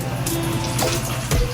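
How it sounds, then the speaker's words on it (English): A faucet runs steadily for hand washing, water pouring loudly and continuously into a sink with a few splashy bursts. "you're going to turn on your faucet and adjust its water flow"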